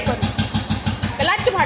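A Royal Enfield Bullet motorcycle engine starting and settling into a steady, loud, rhythmic thump close by, with a rising rev near the end and someone talking over it.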